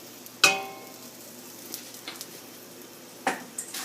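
Kadhi pakoda batter with a pinch of asafoetida being mixed in a bowl, two sharp utensil knocks against the vessel with soft, quiet stirring and squishing between them, close by and without talk.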